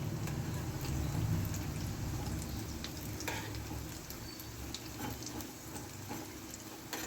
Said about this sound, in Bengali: লাল লাল করে ভালো করে খাস্তা খাস্তা করে ভেজে নেব।